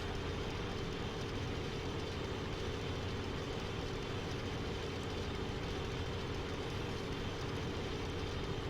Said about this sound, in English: Put down the engine power a bit.